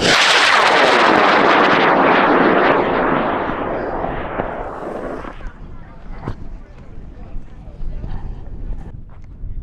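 High-power rocket with an Aerotech L1000 DMS motor launching from a pad at a sport launch in Alamosa, Colorado: a loud roaring whoosh that fades over several seconds as it climbs away, with voices and wind noise afterward.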